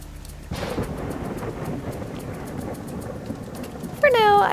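Steady rain with rolling thunder in the video game WolfQuest 3, a continuous wash of downpour that holds throughout, with a brief sharper burst near the end.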